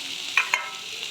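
Soybean chili mixture sautéing in a pan: a steady broadband sizzle with two sharp scraping strokes as it is stirred, close and fairly loud, no voices.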